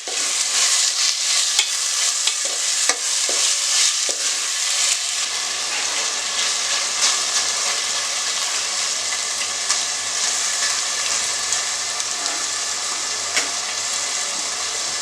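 Two tomatoes sautéing in a pan for a mutton kola curry, with a loud, continuous sizzle and repeated scraping stirs close up for about fifteen seconds.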